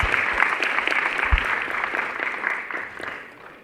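Steady audience applause at an International Youth Day youth debate, dense and even for several seconds before gradually thinning and fading out toward the end.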